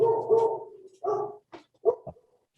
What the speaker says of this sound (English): Is that someone's dog?